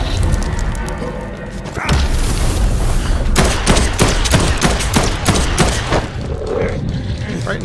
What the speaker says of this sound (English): Let's go ahead and pop off some shots here.